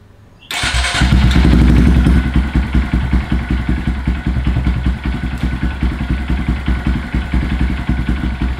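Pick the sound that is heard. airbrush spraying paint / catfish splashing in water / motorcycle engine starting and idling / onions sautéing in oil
motorcycle engine starting and idling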